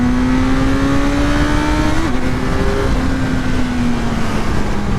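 Naked motorcycle, a Yamaha MT-09 or Kawasaki Z900 in second gear around 4,000–4,500 RPM, accelerating on a throttle roll-on; a loud, steady engine drone rises gradually in pitch with a brief shift in tone midway, no talk.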